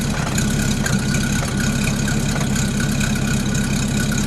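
A 1936 Chrysler Airflow Eight with a 6-volt system and single exhaust idles up close, giving a steady, smooth, low rumble with a faint groan that runs unbroken and alone.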